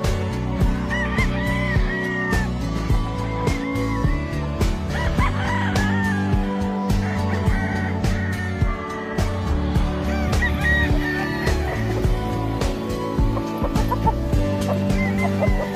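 Gamefowl of a Sweater x Gilmore mix crow and cluck at a game farm, several overlapping loud calls and honking cries layered densely throughout.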